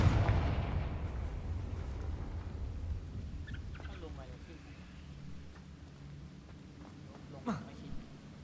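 Confringo fire spell blasting in Hogwarts Legacy: a loud, booming burst right at the start that rolls off into a long low rumble, with a sharper crack near the end.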